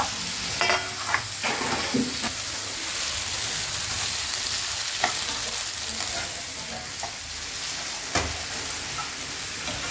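Sabudana khichdi sautéing in a pan, a steady low sizzle broken by a few sharp scrapes and clicks of a spoon stirring against the metal.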